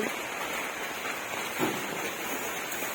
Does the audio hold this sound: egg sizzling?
no